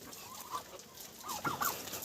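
Hens cluck in short bursts at close range, a few sharp calls rising over a quiet background.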